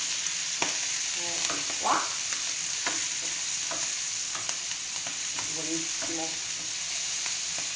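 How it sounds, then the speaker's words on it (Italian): Gnocchi with radicchio, gorgonzola, walnuts and speck sautéing together in a pan, a steady close sizzle with scraping stirs and clinks, brief speech over it. "lo facciamo soffriggere insieme"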